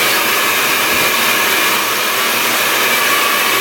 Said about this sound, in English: And now I'm gonna dry my hair pointing down.